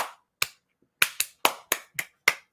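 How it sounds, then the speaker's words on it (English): Sharp claps ring out in an uneven series of about seven, close and crisp with short decays and silence between. "Hand clap, right?"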